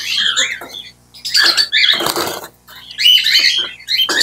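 A Falk lovebird just out of its shipping box gives loud, harsh squawks in several bursts separated by short pauses, close to the listener, with no talking.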